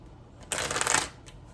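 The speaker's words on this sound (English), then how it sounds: "I'm going to shuffle these 3 times, and then I'm going to lay one out on each card." A single quick riffle of tarot cards being shuffled, a crisp half-second burst of fluttering flicks, close and clear in an otherwise quiet room.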